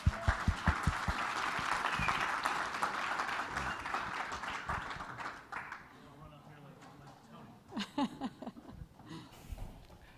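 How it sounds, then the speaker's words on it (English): Conference audience applauds as a speaker is welcomed to the stage, a dense wash of clapping filling the first half and then thinning out, with a few scattered claps and voices near the end. "help me welcome Rich to the stage with a big round of applause"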